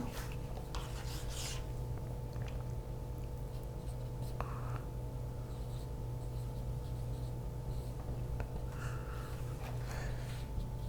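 Marker or chalk writing on a classroom board during a Hindi grammar lesson, steady scratchy rubbing strokes over a constant low hum, with soft breathy sounds between strokes.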